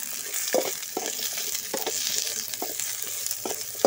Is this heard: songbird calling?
no